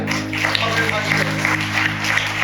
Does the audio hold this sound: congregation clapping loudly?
yes